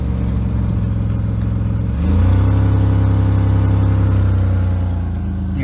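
A Dodge Dynasty car engine idles steadily with an exhaust leak, a low continuous rumble that rises slightly in level after about two seconds and then holds even, close up with no talking.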